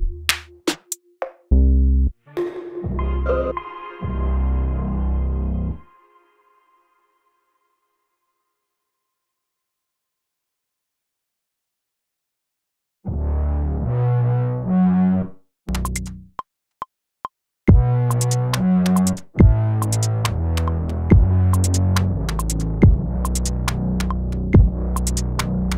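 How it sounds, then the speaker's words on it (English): A distinctive synth bass from the Young Phantom Therapy Kit expansion plays in short, throbbing tonal phrases, stops for a long silent stretch, then returns as a steadier, busier bass line. "So this is the therapy kit, and I really like this unique bass sound"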